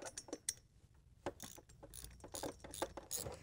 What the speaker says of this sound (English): I'm going to start by removing this bolt that attaches the shifter to the shift rod.